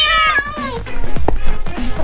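A cat meows in the video game Minecraft, one loud, close, drawn-out mew with a falling pitch, followed by quieter game sounds and a faint voice.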